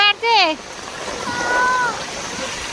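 Water sloshing and splashing through a rain-flooded Delhi street, continuous rushing under loud speech from people on the street, with a brief whistle-like tone near the start.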